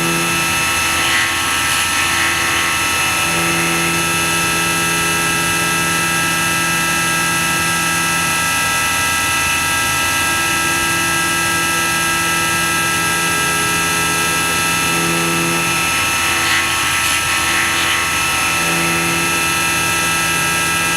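A machine tool cuts a Bultaco brake bracket with a continuous, loud high-pitched whine and drone that holds steady throughout, without any talking.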